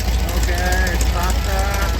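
A 1968 Baja Bug's freshly overhauled transmission and axle spin in second gear, a steady, close, loud low drone with a faint whining tone riding on top, while someone talks over it.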